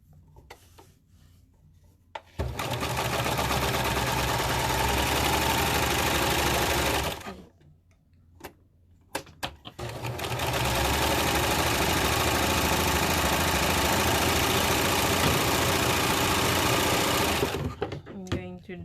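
A Baby Lock Victory serger runs on lycra, a loud continuous whirring stitch in two long bursts separated by a short pause, with brief quiet moments at the start and end.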